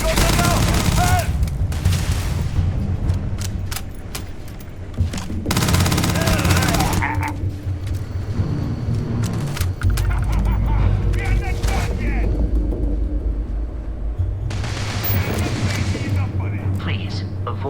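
Bursts of gunfire and explosive booms in the video game Starfield, rapid fusillades repeating across the clip over a low mechanical drone and game ambience, with voices chattering underneath.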